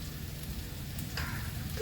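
Raw papaya frying on high heat in a home kitchen pan, a steady close sizzle and crackle with a slight rise in intensity near the end, no voices.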